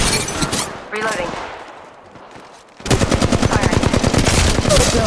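Rapid automatic weapon fire in the mobile shooter Apex Legends Mobile, a loud burst at the start, a quieter lull, then a dense sustained stream of close gunshots to the end.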